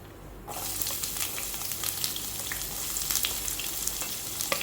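Onion hits hot oil after nuts fried in ghee, bursting from quiet into a loud, steady sizzle with crackles and light stirring for the rest of the clip.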